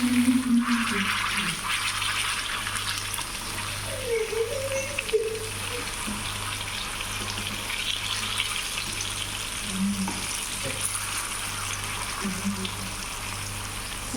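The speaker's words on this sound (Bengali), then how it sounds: "এখানে আলু ভেজে নিচ্ছি" Potatoes frying in a pan in a home kitchen, a steady broad sizzle running throughout, with brief murmuring voice fragments and a faint low hum underneath.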